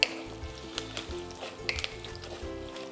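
Oil sizzling and crackling as green chillies fry in a pan, with sharp pops and occasional stirring scrapes, close and steady.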